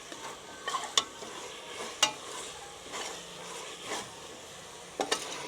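A masala of tomato, garlic and ginger sautés in a pan, giving a quiet sizzle with repeated stirring scrapes and a few sharp taps of a spoon against the vessel.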